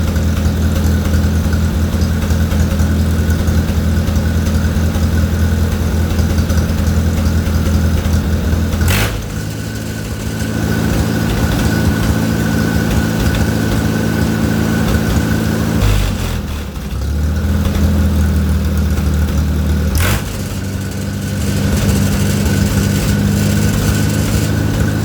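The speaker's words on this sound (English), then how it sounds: "Leave her run just a little bit here. Let that stuff get through the carburetor and through the line." Carbureted engine idling after its timing was set by ear, a steady low rumble close by with two short dips where the idle sags and recovers, no talking.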